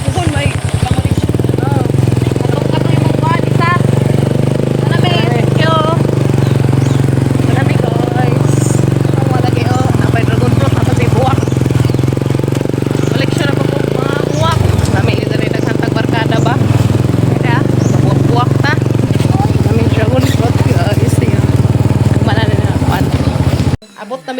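A motorcycle engine idles and runs steadily throughout, a loud continuous rumble close by, with people talking over it.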